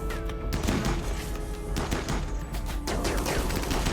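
Pistol gunfire in the colony-building video game RimWorld, a dense run of rapid sharp shots and thumps close together for a few seconds, with no talking.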